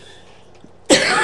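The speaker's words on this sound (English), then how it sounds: "I'm disabled, so I'm having a cough." A single loud, close cough bursts out near the end after a near-silent pause, with no talk around it.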